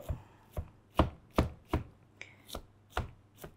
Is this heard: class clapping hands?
no